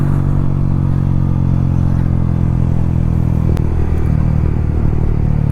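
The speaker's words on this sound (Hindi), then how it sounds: "बाइक भगा के छोड़ दिया ना तो ऐसे मस्त बैक फायर मारती है" Motorcycle fitted with an Akrapovic R9 exhaust and no dB killer, ridden outdoors: a loud, steady engine drone throughout, broken by one sharp backfire pop near the end.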